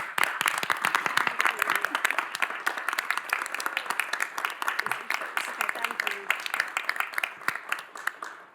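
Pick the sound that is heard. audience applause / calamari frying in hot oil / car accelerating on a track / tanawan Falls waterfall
audience applause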